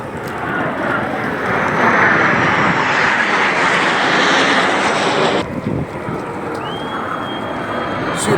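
Airplanes fly overhead during a centennial celebration, writing 100 in the sky, a loud sustained engine roar with wind buffeting that dips slightly partway through.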